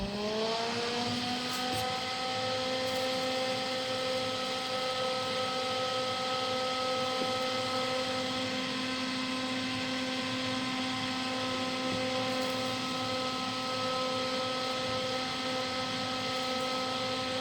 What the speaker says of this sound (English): Fan rotates counterclockwise.